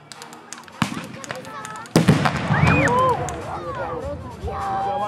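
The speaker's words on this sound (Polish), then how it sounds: "Niemcy przygotowują swoje działo do wystrzału." A historical reenactment cannon at Modlin Fortress in Poland fires during a military show: a sharp blast, then a louder, heavier boom that rolls on beneath crowd murmur and nearby voices talking.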